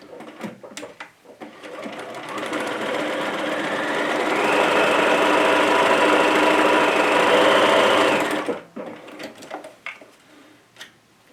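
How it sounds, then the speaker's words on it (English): Sewing machine stitching a short-end seam on homemade fabric for a washable market tote, a steady loud mechanical whir running about six seconds, preceded and followed by softer handling clicks. "I will stitch this on the shorter end."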